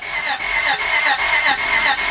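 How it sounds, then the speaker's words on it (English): A 2000 Honda Odyssey engine cranking without starting, the starter whirring in a loud, steady rhythmic churn with regular dips as the engine turns over, close up and alone. "I want to crank the engine."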